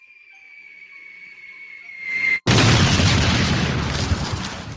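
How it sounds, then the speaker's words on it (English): A bomb explosion sound effect: a rising high-pitched whistle for about two seconds, a split-second gap, then a loud, broad boom that rumbles and slowly fades, with no voices. "Let me drop a bomb."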